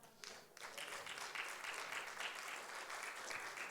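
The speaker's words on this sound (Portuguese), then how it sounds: "Você consegue aplaudir o Senhor, irmão?" A church congregation applauds, a dense, steady wash of clapping from many people that fills the room for several seconds, heard at a moderate distance with no voice over it.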